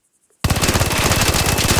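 After a brief near-silence, an SMG in the shooter game Arc Raiders opens up with a loud, rapid, sustained burst of evenly spaced shots that runs to the end.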